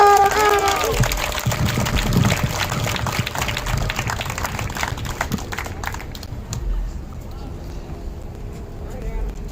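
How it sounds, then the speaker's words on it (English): Applause from a crowd at an outdoor protest rally in Philadelphia, a dense steady patter that continues for several seconds and fades toward the end, with a voice heard briefly at the start. "Can I get a hand of applause?"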